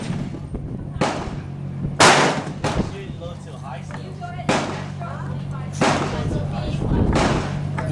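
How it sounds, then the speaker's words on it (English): Standard velocity CCI rimfire rounds fired at a steel Mario-style target at an outdoor range, several sharp loud reports spaced about a second apart over a steady low background hum. "shooting CCI at standard velocity"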